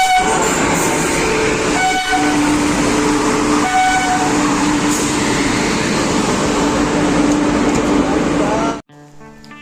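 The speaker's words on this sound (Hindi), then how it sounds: "और ये देखिए आती हुई हमारी वो ट्रेन जो हमें लखनऊ लेकर जाएगी" A train bound for Lucknow rolls into a station with a loud continuous rumble of wheels and carriages and a few horn-like tones, then cuts off abruptly.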